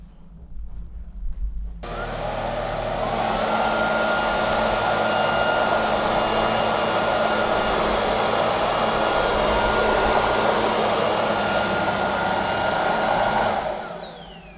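Roidmi X20 cordless stick vacuum running on high with its regular brush roller, picking up cereal, flour and litter: a loud steady whine that switches on sharply, holds for about twelve seconds, then winds down.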